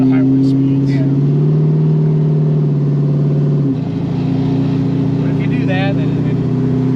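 A 1935 Ford Slantback street rod with a 351 cubic inch V8 pulls steadily under load, its deep engine drone holding loud and close with a brief shift in pitch midway, while people talk over it inside the car.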